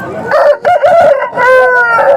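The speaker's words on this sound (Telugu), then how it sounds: "రకరకాల జాతి పుంజులు అయితే వచ్చినాయి" Roosters crow repeatedly at a busy village hen and poultry market, loud, drawn-out cock-a-doodle-doo calls overlapping one another close by, with clucking fowl in the background.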